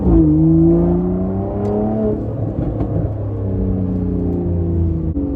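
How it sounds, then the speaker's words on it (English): A car engine rumbles and burbles steadily up close, with a few sharp crackling pops breaking through the low exhaust drone. "look at the pops and crackles."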